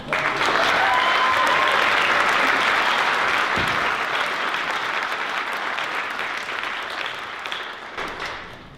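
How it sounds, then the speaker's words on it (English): Sustained audience applause at a state treasurer's swearing-in ceremony, loud and dense from the start, holding steady and slowly thinning toward the end with no talk over it. "We send perhaps another round of applause"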